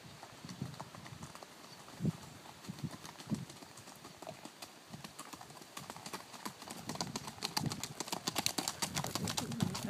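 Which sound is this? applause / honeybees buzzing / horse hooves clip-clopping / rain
horse hooves clip-clopping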